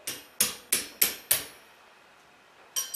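A blacksmith's hammer strikes hot iron at a historic 1840s-style forge: four quick ringing blows in a row, a brief pause, then another strike, close and clear.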